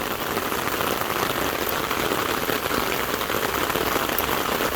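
Rain pattering steadily and densely on an umbrella held close overhead, a loud continuous hiss with no pauses.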